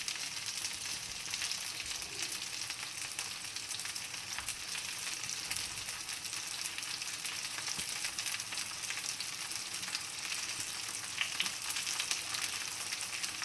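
Red pine mushrooms fry in a pan with a steady, dense sizzle and crackle. The sizzle holds at an even, moderate level from start to finish, with no voices.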